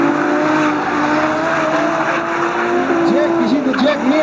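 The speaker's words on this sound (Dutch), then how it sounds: "heeft Jack zoveel snelheid in die auto zitten dat hij er mooi aanvallend kan driften" Drift cars battling on a track, engines droning loudly and continuously with tires squealing in rising and falling whines toward the end.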